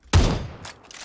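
A single sharp Winchester rifle shot in PUBG cracks loud and close, followed by a fading tail and a faint metallic mechanical click shortly after.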